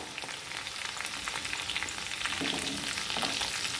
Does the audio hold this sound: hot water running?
no